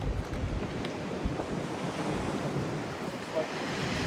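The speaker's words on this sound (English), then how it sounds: "The wind is insane." Strong wind buffeting the microphone outdoors during a mirror replacement on a 2016 Ram 1500, a loud continuous roar with gusty rumble.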